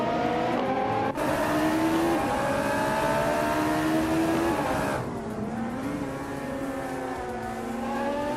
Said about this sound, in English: Scuderia Veloce is driving a 2005 Ford GT, a classic American muscle car with a lot of raw power